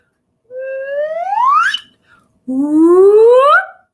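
Two smooth upward glides, one after another, like a slide whistle, most likely a singing voice imitating it; each sweep rises steadily in pitch, clear and unaccompanied.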